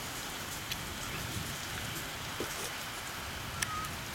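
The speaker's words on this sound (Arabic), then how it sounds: "الآن المطر بدأ بشكل أقوى من أول" Heavy rain pours down steadily in Khiran, a dense, even hiss of drops close by with a few brief louder splashes and knocks.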